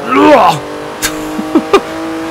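Porsche 911 Turbo S (991) in Forza Horizon 3 revving hard with wheels spinning, a loud rising engine howl for half a second, then a few short sharp blips over a steady hum, with someone talking.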